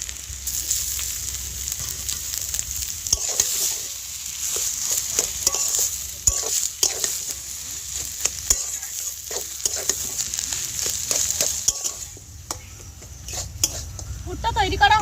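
A spatula stirs and scrapes a papad filling with fried egg in a sizzling pan, with steady frying hiss and repeated metallic taps and clinks close by.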